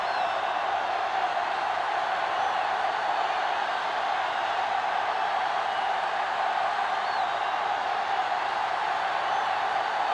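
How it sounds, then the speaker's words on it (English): Stadium crowd roaring at kickoff in Madden NFL 2005, Colts versus Patriots, a steady dense wash of cheering that holds evenly throughout with no clear peaks. "The crowd in full throat as we get this new season started with the kickoff."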